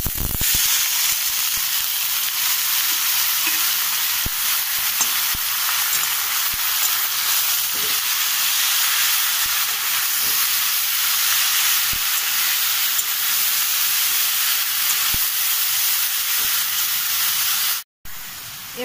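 Radish and potato fry in a pan as a loud, steady close-up sizzle that holds without a break for most of the time, cutting out abruptly for a moment near the end before resuming.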